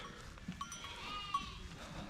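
Chios sheep grazing with their lambs outdoors, a few faint distant bleats rising over a soft rustling field background, with no voices.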